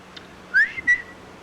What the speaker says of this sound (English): Can't whistle in this cold weather.